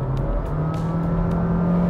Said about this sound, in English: I'll press the pedal like full on